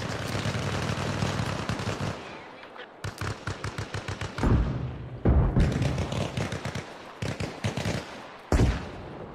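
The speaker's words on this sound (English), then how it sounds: "I'm just gonna start throwing grenades." A close, loud firefight in Arma Reforger: rapid bursts of automatic gunfire broken by short pauses, with several heavy grenade blasts booming out between the volleys.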